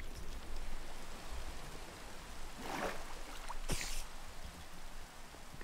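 Steady rain falls in the Minecraft video game, a soft, even patter that hisses on throughout at low level, with a couple of brief brighter swells and no talk.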